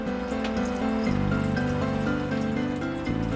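Condensed liquid drips steadily and continuously back into the mixture from a glass spiral inside a fractionating distillation column, a close trickling patter with no voices.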